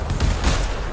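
Rapid gunfire from the video game Anthem, a dense run of overlapping shots and bursts at steady loudness with a couple of heavier thumps, filling the whole moment with no voices.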